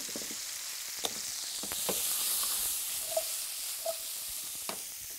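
Vegetable oil sizzling as it is poured back into a frying pan while cooking ratatouille, a soft continuous hiss and crackle with a few sharp pops and light clinks of utensils, fairly quiet and close.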